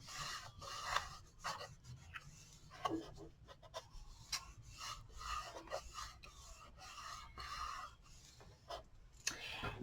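A fold in paper card being rubbed down flat for a pop-up display card, giving close, quiet rasping strokes in an irregular rhythm, heard alone without talk.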